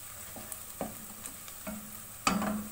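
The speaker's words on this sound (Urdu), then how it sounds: "تقریباً 2 سے 3 منٹ کے لیے پیاز کو اچھے سے ہم یہاں پہ کک کریں گے" Onions cooking quietly in a pan for a bhuna chicken curry, with faint sizzling, a few light utensil taps and stirs, and a louder scrape near the end.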